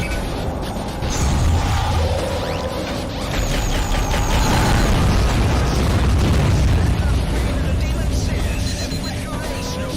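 Mortar weapon in the underwater combat game AquaNox fires repeatedly, with heavy booming blasts and crashing explosions over a continuous mechanical rumble, loud and close, while someone talks over the action.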